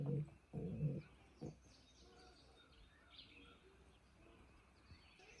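Pigeons coo softly in a pigeon loft built inside an old corn crib, a few low murmuring calls after a louder rustle and thump at the start, faint and close.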